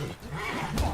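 A horse in The Witcher 3 gives a short, faint whinny during a fight, with other game sounds around it.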